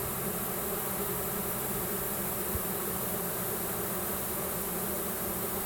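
Honeybees swarm around a newly installed hive in a dense, continuous buzzing drone, loud and close, steady throughout with no voices.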